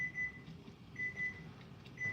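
A kitchen timer beeps in a home kitchen: short, high electronic beeps come in small clusters about a second apart over a faint room hum, clear but not loud.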